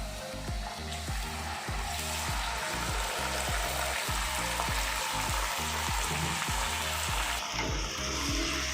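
Chicken with onions sizzles and crackles steadily in a hot pan, with repeated scraping and stirring strokes against the metal, close and continuous.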